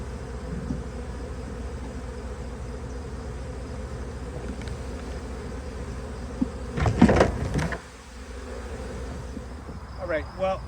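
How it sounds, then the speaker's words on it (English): A massive honey bee swarm being shaken into an empty hive box, a continuous close insect buzz with a burst of louder knocking and rustling midway, then quieter buzzing with faint distant voices. "we clunked the bees into the box, into the hive, empty hive"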